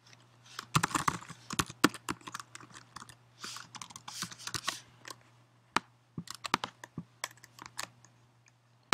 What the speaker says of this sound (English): you'll have to type in an email and repeat it for confirmation